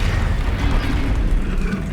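A Bombarda blast spell in Hogwarts Legacy lands as a deep, rumbling explosion that fills the whole two seconds, loud and close with a heavy low boom and no talking.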